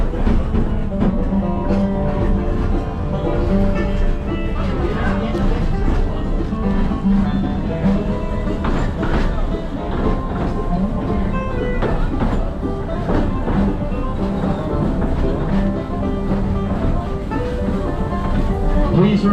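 The Silverwood Central Railway steam train rolls along with a steady, loud rumble and rhythmic rail clatter, carrying on without a break from start to finish.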